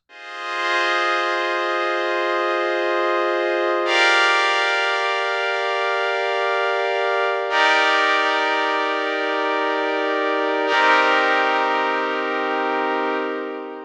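Four sustained chords from a Yamaha SEQTRAK groovebox in chord mode, each held for a few seconds before the next one starts, bright and evenly loud, with no voice.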